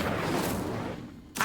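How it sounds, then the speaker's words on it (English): An Incendio fire spell cast in Hogwarts Legacy gives a sustained rushing, crackling burst of flame that trails off, then a short sharp flare starts right at the end. "Incendio!"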